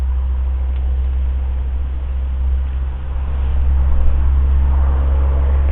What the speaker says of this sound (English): Traffic's a bit noisy in a minute.